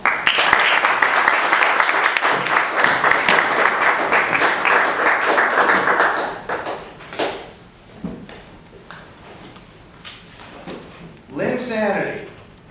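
Loud, dense audience applause welcoming David Abramovitz to the stage at a talk, sustained for about six seconds before thinning into scattered claps and a few faint murmurs.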